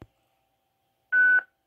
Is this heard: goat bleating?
no